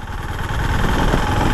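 A Husqvarna Vitpilen 701 motorcycle with a 700cc engine runs steadily at low revs, a loud, dense rumble with constant vibration and no speech.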